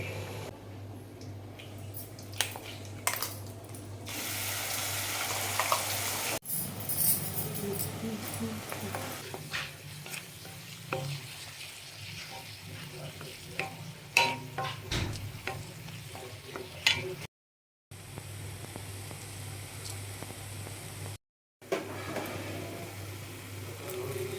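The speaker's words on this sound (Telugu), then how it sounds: "ఈ ఆయిల్లోనే మనము ఫ్రై చేసేసుకుందామండి" Prawns fry in leftover oil in a pan for a coastal-style Konaseema prawn fry, with a soft, continuous sizzle under frequent spoon scrapes and taps, broken by two brief silent gaps.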